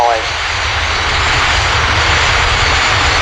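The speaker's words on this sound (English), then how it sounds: "another display from the Polish Air Force MiG-29" A Polish Air Force MiG-29 jet in a display at the 2006 Leuchars Airshow, a loud continuous roaring engine rush that stays steady and close throughout, with no voices over it.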